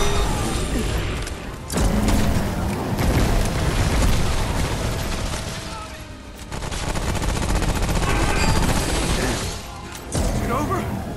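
Gunfire from the shooter game Remnant: From the Ashes comes in loud, sustained bursts of rapid shots with booming impacts, broken by a few brief lulls.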